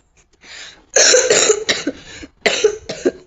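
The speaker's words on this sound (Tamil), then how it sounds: "இருமல் வேற" Several harsh, close coughs come in bursts, a quieter one first, then louder fits with short pauses between them, over Granny horror gameplay.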